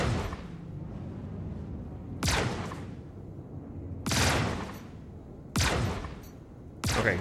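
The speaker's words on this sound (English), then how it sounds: "why is only one of my two Dominance 2s firing?" Dominance 2 ship guns fire in the space game Star Citizen, four loud bursts spaced a couple of seconds apart, each a sharp crack that trails into a rumbling decay over a low background hum.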